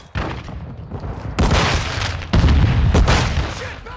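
Call of Duty: Modern Warfare II team deathmatch combat: a frag grenade blast and bursts of gunfire, with booming impacts at about 1.4 and 2.3 seconds over a dense, loud battle din.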